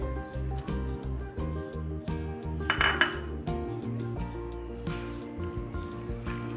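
A spoon stirs mango peach cream chaat with fruit cocktail and chaat masala in a bowl, making soft repeated clinks and wet squishing against a steady low hum, close up; no talking.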